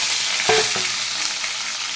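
Two medium-sized cut potatoes hiss loudly in hot oil with bay leaf, dried chilli and cumin, giving a dense, steady sizzle. A single close utensil clink sounds briefly near the middle, and there is no talk.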